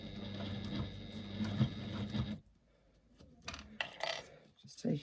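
A sewing machine stitches basting along a fabric fold, a close mechanical whir with rapid ticking that runs for a couple of seconds, stops, then gives a few short scattered clicks and rustles.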